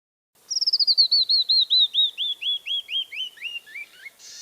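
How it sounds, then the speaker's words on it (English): A single bird sings a long, fast descending series of clear whistled notes, about twenty in a row that gradually slow and drop in pitch, close and isolated against silence. "Oh, so that's a song, a bird song."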